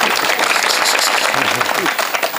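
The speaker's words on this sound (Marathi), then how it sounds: "आता जोरात टाळी वाजवा ना" An audience at a Marathi comedy kirtan claps in a dense, continuous burst of applause with a voice faintly mixed in.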